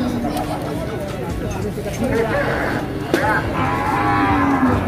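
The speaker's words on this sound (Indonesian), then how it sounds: "Di sini ada sapi Bali yang kelihatan sudah berumur." Bali cattle, one looking aged, moo low and drawn-out amid a busy livestock market din, with people talking and chattering all around.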